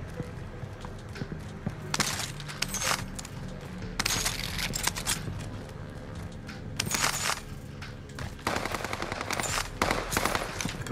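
Gunfire in Call of Duty Warzone, bursts of rapid automatic shots at close range, loud and repeated, separated by short pauses.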